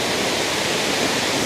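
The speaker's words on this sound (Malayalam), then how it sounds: "അയ്യോ, നമ്മൾ വെള്ളച്ചാട്ടത്തിൻ്റെ മുകളിലാണ് എത്തിയിരിക്കുന്നത് കേട്ടോ." Blapila waterfall roars as a dense, constant rush of falling water, loud and close, with no other sounds.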